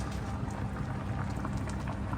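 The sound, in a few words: meat boiling in water without oil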